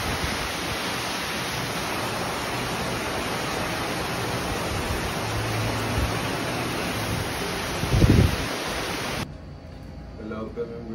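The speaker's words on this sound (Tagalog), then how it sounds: "Ito sobrang lakas pa rin ng hangin at ulan." Loud, constant roar of typhoon wind and rain in Batangas, Philippines, fills the scene, with a brief thump near the end before it suddenly cuts to quiet.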